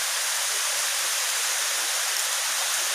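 Tobo Tobo Mini Falls in Altavista, Matalom, Leyte, Philippines pours steadily, a loud, close, continuous broadband rush of falling water with no pauses and no voices.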